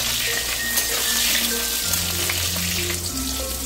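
Salted eggplant pieces frying in hot oil for a pumpkin-greens chorchori, giving a loud, steady sizzle and crackle that runs unbroken throughout with no voices.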